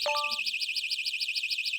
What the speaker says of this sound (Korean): 경보가 울리고 자동으로 열리네요